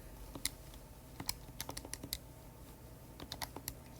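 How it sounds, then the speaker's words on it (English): Buttons pressed on a calculator, a quick irregular series of light plastic clicks, close and faint, with no voice. "I'm going to go ahead and type this into a calculator as well"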